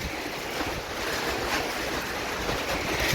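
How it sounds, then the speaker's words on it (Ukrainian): Strong wind off a river buffets the microphone outdoors at a home oil-production site, a steady roaring rush that swells slightly and continues without speech. "Коротше, від річки тут такий вітер"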